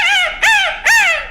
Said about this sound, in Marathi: अशा पद्धतीने हा रान कोंबडा आहे